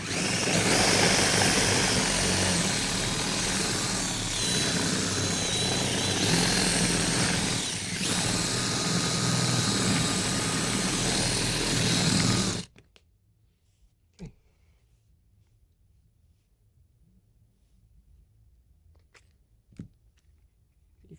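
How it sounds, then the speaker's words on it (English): A power drill grinds loudly and steadily for about twelve seconds drilling out a rivet on a suitcase wheel, then stops abruptly, leaving near silence broken by a few faint clicks. "The bigger the drill bit, the better, because we're gonna score the outside of the rivet."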